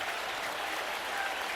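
At Clemson's Death Valley stadium during a Miami at Clemson college football game, a huge crowd roars and claps, a broad, steady wall of noise that stays even throughout.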